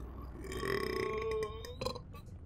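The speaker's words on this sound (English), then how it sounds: "Burps." A single loud, drawn-out burp lasting over a second sounds close to the microphone, with a quieter vocal sound right after it.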